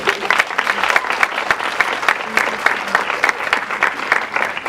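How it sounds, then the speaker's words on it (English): Enthusiastic audience applause at a council member's speech at a leadership event, a dense, steady wash of many hands clapping close and loud for several seconds, with no talk over it. "Another round of applause."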